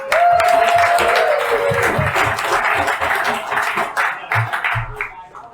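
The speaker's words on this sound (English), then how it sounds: "One big round of applause for everybody." A pub audience at a talk event gives a round of applause mixed with cheers and voices, loud at first and thinning toward the end as chatter takes over.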